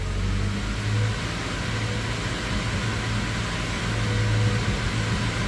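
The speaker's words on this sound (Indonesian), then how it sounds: "kita lakukan pengegasan untuk mengeluarkan kerak-keraknya" A Toyota Prado engine revs steadily in a workshop to blow out carbon deposits and set the valves, a loud, continuous droning roar with slight swells in pitch and no talk over it.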